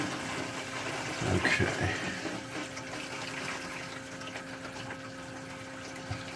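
Overflow siphon on a 60 cube aquarium gurgling when opened too far, a watery churning and bubbling over a steady pump hum, with a brief louder surge early and a short spoken word.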